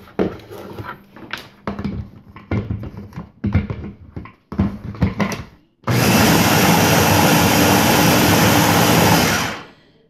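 A blender whirs steadily at high speed for several seconds, pureeing red peppers with a little salt and pepper in a home kitchen, following a stretch of scattered clattering and handling noises.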